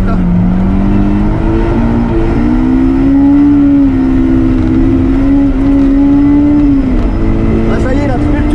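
A Renault race car's turbocharged engine pulls hard during a time attack run, a loud, close, steady drone whose pitch climbs then holds and dips, with a voice talking over it.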